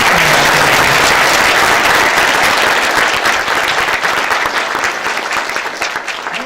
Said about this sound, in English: All right, give her another round of applause.